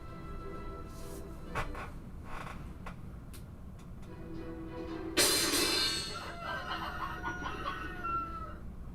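A chicken crows in the Fate Grand Order video game during a Hawaii summer festival event, a loud, drawn-out cock-a-doodle-doo bursting out near the end after scattered softer clucks and clicks.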